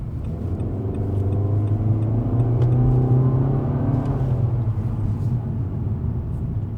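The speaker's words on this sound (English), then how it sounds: "So you can see it accelerates there pretty quickly." A 2016 Nissan Altima 2.5 SR accelerates on the road, its engine note climbing steadily in a loud, close rumbling whir with no other sounds over it.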